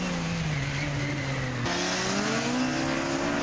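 Old school rally cars race flat out on a stage rally course, one engine screaming at high revs and shifting up with a sharp break in pitch, loud and close with no talk.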